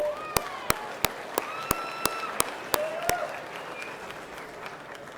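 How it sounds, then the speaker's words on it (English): Crowd at a desert race awards ceremony applauding the champions, a steady wash of clapping with a few sharp louder claps standing out near the front. "Big round of applause for our champions."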